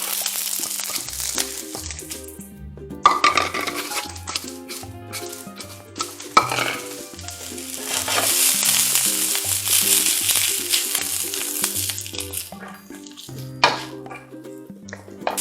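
Chopped onion frying in extra virgin olive oil in a heated pan, the start of a quick beef ragu; a soft, steady sizzle with occasional stirring and pan clatter runs beneath prominent background music.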